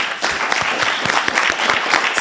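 Audience applause at a city council meeting, a brief burst of many hands clapping at steady strength throughout the short moment.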